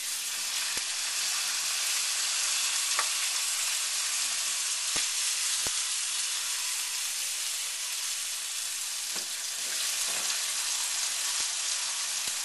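Thin-cut steak sears in shimmering hot oil in a pan, a loud steady sizzle running throughout with a few sharp pops and crackles and no talking.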